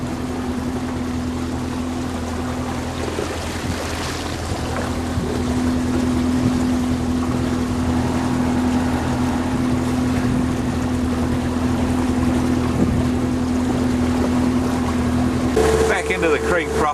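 A motorboat cruising along a mangrove creek, its engine droning steadily with a constant low tonal hum and rushing water, shifting pitch near the end; someone talks at times over it.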